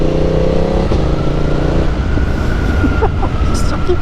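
Sport motorcycle fitted with an Akrapovic exhaust, accelerating through its gears with a quickshifter, the engine note loud and close as it rises in steady pulls with brief shift breaks.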